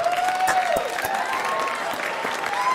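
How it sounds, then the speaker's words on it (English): Dense, steady applause from a stand-up comedy audience fills the room, loud and continuous from start to finish, with hands clapping close by among the crowd. "Why am I clapping like I'm there?"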